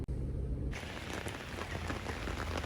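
Rain falls heavily on a surface near a parked Land Rover Defender camper in Pitigliano, Italy, a dense continuous patter that starts abruptly and stays loud and even, with no talking.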